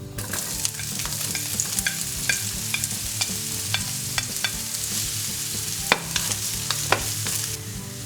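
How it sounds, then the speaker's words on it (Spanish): Onion frying in a little oil in a pan for caponata gives a steady close sizzle, punctuated by sharp clicks and scrapes of stirring utensils, with no talking. "En una sartén con un poco de aceite ponemos la cebolla."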